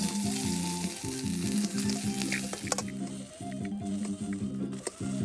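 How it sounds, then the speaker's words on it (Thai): Cicadas fry in a little oil in a pan for a Thai chili dip, making a close, continuous sizzle with occasional pops, over a steady low tonal drone in the background. "ใส่น้ำมันหน่อยนึงนะ นี่ก็จะเป็น จักรจันนะครับ"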